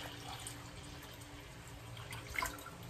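Tap water runs steadily into a pot for tapioca, a faint, even splashing stream close by with no talk.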